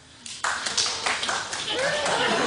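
Studio audience at a daytime TV talk show clapping, starting sparse and scattered then thickening into steady applause, with a host talking over it.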